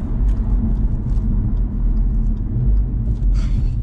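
Audi RS3 hot hatch engine rumbling as it downshifts toward first gear, a steady deep low drone heard close and loud from inside the car, without any talking.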